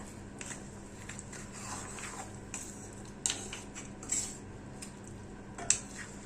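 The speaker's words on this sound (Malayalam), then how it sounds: "നല്ലപോലെ ഇളക്കി കൊണ്ട് മിക്സ് ചെയ്യണം." A spoon stirs and scrapes around a metal pot of Kerala-style mutton curry, soft repeated scraping with a few sharper clinks, close by and fairly quiet.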